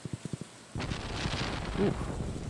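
Thunder in the Stardew Valley video game, a deep rumble that swells suddenly after a few soft taps and rolls on steadily, close and fairly loud.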